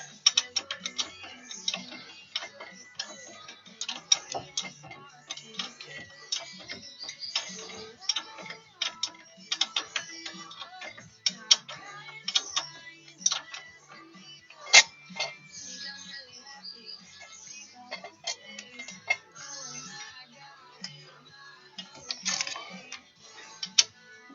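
Wrench turning on the front wheel hub of a 2003 Chevrolet Silverado during a hub assembly replacement, giving a steady run of close, sharp metallic ratcheting clicks and ticks with uneven rhythm throughout.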